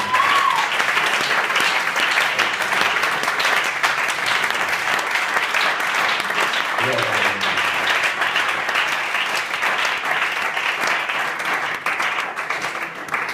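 A church congregation applauds loudly and steadily, with sustained clapping and some cheering filling the space throughout.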